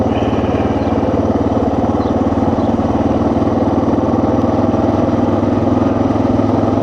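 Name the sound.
Suzuki DR 650 motorcycle engine riding in third gear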